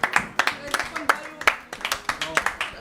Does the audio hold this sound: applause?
yes